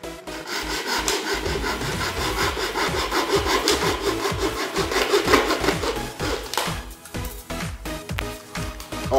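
A saw cutting through a piece for a homemade fountain, with quick back-and-forth rasping strokes in a steady rhythm that loosens toward the end, close and loud, alone without talk.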